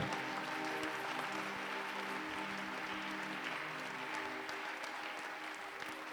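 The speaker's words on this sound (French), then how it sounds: "Applaudis très bien le Seigneur des Seigneurs." Congregation applauding during a mass prayer service in a church, sustained dense clapping heard somewhat distant and steady throughout, with sustained musical tones, likely keyboard, beneath it and no clear speech.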